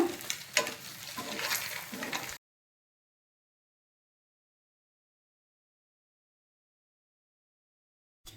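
Biryani whole spices fry and sizzle in hot oil in a pan for an egg curry, a close crackling hiss lasting a couple of seconds before abrupt silence.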